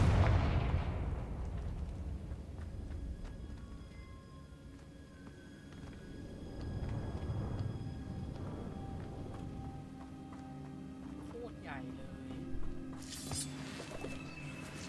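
A Confringo fire spell bursts in Hogwarts Legacy on PS5 with a single loud explosive boom at the start, then fades into a low rumble and quieter game sounds.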